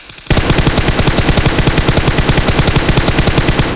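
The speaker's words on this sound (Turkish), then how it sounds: "Sağ sol yaparak sıkıyorum arkadaşlar" Automatic weapon fire in the video game PUBG, a loud, rapid, evenly spaced burst of shots that starts abruptly and continues without pause for over three seconds, close and dominant.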